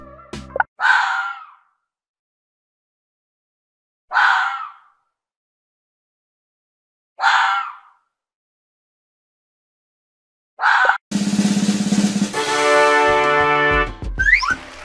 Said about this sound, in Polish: Brawo, to lis.